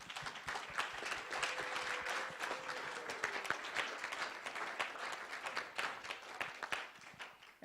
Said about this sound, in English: So big round of applause for just that.